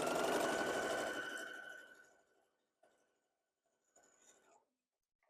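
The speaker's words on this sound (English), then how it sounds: "So a tiny bit of chain piecing" A sewing machine chain pieces fabric with a fast, close whirring stitch that runs loud for about two seconds and then winds down, followed by faint brief rustles of fabric handling.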